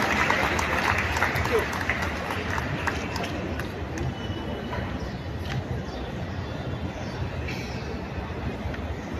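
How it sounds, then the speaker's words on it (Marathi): Crowd applause at a half marathon prize ceremony in Vasai, a continuous wash of clapping from a large outdoor audience, mixed with an announcer talking over a loudspeaker. "पुन्हा एकदा जोरदार टाळ्या आपल्याकडून"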